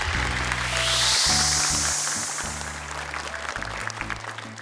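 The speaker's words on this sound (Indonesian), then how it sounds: "Boleh tepuk tangan sekali lagi dong untuk kelompok 2" A group of children from a boys' dormitory receives applause after a Hijaiyah letter challenge, a moderate wash of clapping beneath a steady, stepped tonal hum and a rising hiss, continuing evenly throughout.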